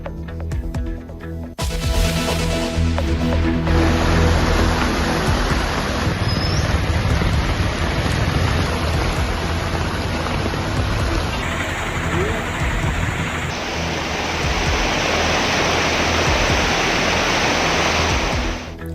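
Floodwater from the overflowing Killiyar river in Thiruvananthapuram rushes into houses as a loud, continuous roaring torrent, broad and unbroken, with a voice speaking over it.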